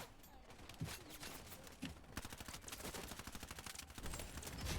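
Rapid automatic gunfire in the shooter Wild Assault, steady rattling bursts throughout with occasional heavier impacts, fairly loud, with faint voices underneath.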